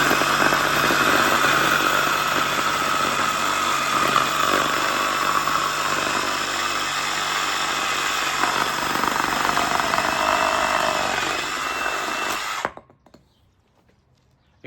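A powered cutter with a 7-inch blade whines steadily as it cuts a bush limb held up in the air, running loud and close for about twelve seconds before cutting off abruptly into near silence.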